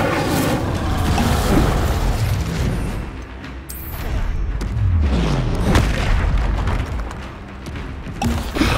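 A Confringo blasting spell explodes in Hogwarts Legacy, with deep booming blasts and rumbling impacts repeating through a loud, busy combat scene.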